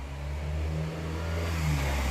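A car engine revs nearby at a live house auction in Glen Waverley, producing a steady, loud mid-pitched drone that rises slightly in pitch, with no talk over it.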